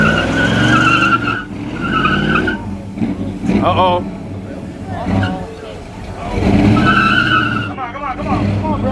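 Car doing a burnout at a monster truck and car show, with loud tire squealing and skidding over a revving engine, close by, while people talk and shout around it.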